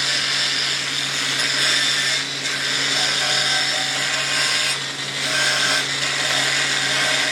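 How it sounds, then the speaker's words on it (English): Angle grinder fitted with a bristle brush attachment, turned to its lowest speed, whirring steadily and loudly with a constant hum, two brief dips in load partway through. "I can set the speed on this grinder, so it's set to the lowest speed, and it seems to be working fine"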